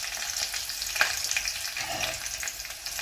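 Garlic, curry leaves and sliced green chili sizzle steadily in hot oil in a frying pan, a constant crackling hiss with a brief sharper spatter near the start.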